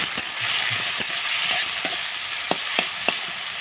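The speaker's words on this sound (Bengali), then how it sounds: "কড়াতে দিয়ে দিয়েছি তেল দিয়ে দিচ্ছি পেঁয়াজ পেঁয়াজগুলো আজকে লাল লাল করে ভাজবো না হালকা ভেজে মশলা দিয়ে দিব" Onions frying lightly in oil in a kadai give a steady sizzle and hiss, with occasional soft clicks and taps of a stirring spoon against the pan, close and continuous.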